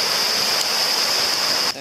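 A small waterfall in Thailand, reduced to little more than a trickling stream, sends up a steady loud rush of water noise that fills the moment and cuts off abruptly at the end.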